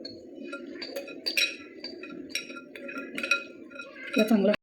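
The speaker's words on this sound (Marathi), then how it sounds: "आता मी हे सगळं पॅनमध्ये आपलं ऑरेंज ज्यूस, साखर आणि तूप मिक्स केलेलं आहे. त्याला चांगलं आपण मिक्स करून घेणार आहोत." A spoon stirs orange juice, sugar and ghee in a pan, giving repeated light metallic clinks and taps over a soft bubbling bed. The stirring grows louder and busier just before it stops abruptly.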